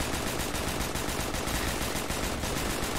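Gunfire in the Left 4 Dead 2 video game, dense rapid automatic shots fired in a continuous burst that fills the whole moment at steady loudness.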